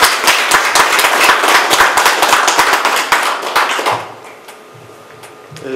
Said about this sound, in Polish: należą się oklaski pana Tomasza